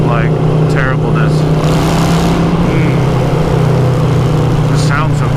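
A Harley-Davidson Iron 883 motorcycle engine drones while riding on a morning commute, a loud, steady, close rumble with heavy wind rush running unbroken throughout.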